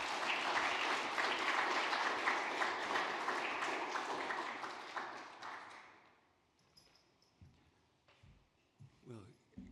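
An audience applauds to welcome a speaker at a talk: dense, steady clapping from a crowd for about six seconds, then it thins out and dies away, leaving scattered faint sounds.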